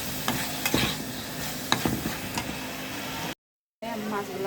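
Spice paste with chopped tomato sizzles in a pan while a spoon scrapes and stirs it in short strokes. A brief cut to silence comes near the end before the frying resumes.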